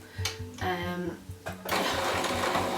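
Domestic sewing machine stitching a sweater over a thick seam, a steady close motor hum with rapid needle pulses that stop and restart.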